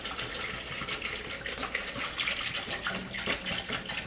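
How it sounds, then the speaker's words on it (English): Crystal Geyser spring water pouring into a blender jar over romaine lettuce, a steady close gushing, splashing stream throughout with no voices. "Taking Crystal Geyser spring water and pouring that into here."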